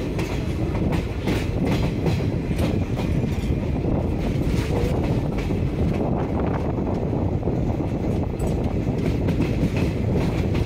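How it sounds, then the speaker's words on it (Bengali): The Maa Tara Express runs loud and close on its way to Prantik station, easing its speed as it nears the stop, with a constant rumble, rhythmic clickety-clack of wheels over rail joints and wind buffeting. "প্রান্তিক স্টপেজে ঢোকার সময় ট্রেন স্লো হয়ে গেছে"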